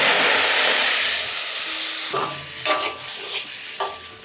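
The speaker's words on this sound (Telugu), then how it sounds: "ఇప్పుడు ఇందులో మనం ఉడికించి పెట్టుకున్న శనగలు వేసేసుకోవాలి" Boiled chickpeas land in a hot turmeric tempering and set off a loud, close burst of hissing sizzle that fades, followed by several scraping stirs of the pan.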